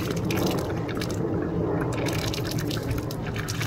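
Antifreeze runs steadily from a cockpit sink aboard a 34-foot Sea Ray Sundancer boat sitting in the water, a continuous trickling flow with soft dripping and no talk.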